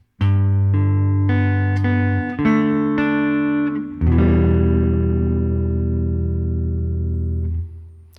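Clean electric guitar plays the chord melody of a song's hardest passage, a beginner arrangement: several ringing chords, each struck and left to sustain, the last held long and fading. No voices.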